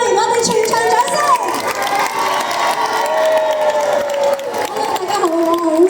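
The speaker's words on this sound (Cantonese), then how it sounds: "我哋全場掌聲！" A crowd at a Sha Tin shopping mall celebration for National Day and Mid-Autumn Festival claps and cheers loudly and continuously, with shouts and whoops mixed over background music while a host's amplified voice carries through.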